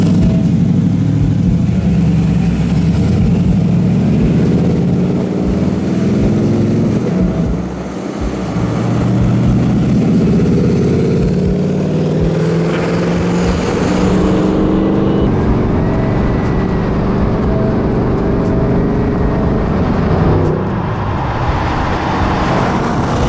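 An 800 hp LT5-powered 1969 Camaro rumbles and pulls away, a deep loud V8 growl rising and falling with throttle, heard close from inside with road noise and a brief lift before it builds again.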